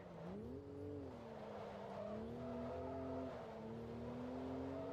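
A race car in Forza Motorsport 2 takes a corner, its engine a steady, droning whine that dips and rises gently in pitch as it holds the line, with no voices over it.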